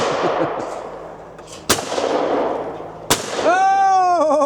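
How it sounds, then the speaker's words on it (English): Two sharp, close .410 shotgun blasts at clays, a couple of seconds apart over background chatter, followed by a ringing tonal sound. "So Mick demonstrating there just what can be done with the 410"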